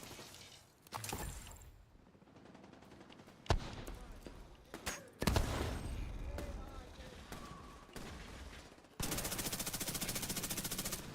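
Rapid bursts of explosive-round gunfire in The Division 2, sharp loud cracks and a dense sustained stretch near the end, over a busy game mix with a voice talking.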